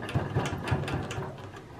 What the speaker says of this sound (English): I'm going to stitch on the same spot a few times